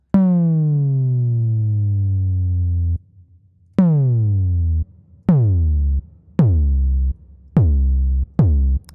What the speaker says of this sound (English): that's an 808 sound right there.